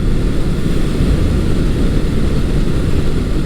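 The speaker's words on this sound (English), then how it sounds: "I'm getting a little bit of vibration, and I can tell it's not firing on all four like it should be just yet." An old air-cooled Honda CB750 four-cylinder motorcycle idling unevenly on a cold day, not firing on all four cylinders, a close, steady low rumble with slight roughness throughout.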